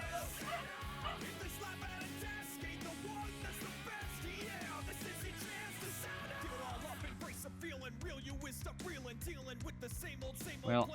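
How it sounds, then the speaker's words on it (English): A puppy yaps in the background, small dog yips and whimpers mixed into a steady bed of music and other sound, not prominent, with a louder burst at the very end. "I hear the pup yapping, so I may have to take her out shortly"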